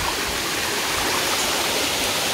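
Cachoeira Salomão, a waterfall in Caiapônia, Goiás, pours with a dense, constant broadband rush of falling water, loud and close with no other sounds.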